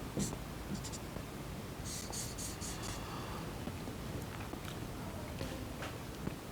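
A pen or pencil scratches across paper while a maths solution is written out, a faint continuous scratching with a few sharper strokes and light taps, heard close under a quiet background and no clear talk.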